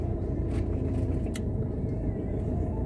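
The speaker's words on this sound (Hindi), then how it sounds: "इसलिए यहाँ पे थोड़ा ट्रैफिक भी है।" Steady low rumble of weekend street traffic on a busy road lined with shops, with vehicles passing continuously and a few faint higher clatters above the drone.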